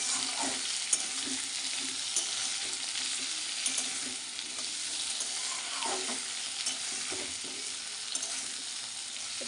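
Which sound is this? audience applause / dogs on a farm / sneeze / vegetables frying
vegetables frying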